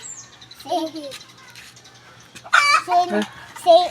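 Chickens clucking and calling in short bursts, fairly close, with a few louder squawks toward the end.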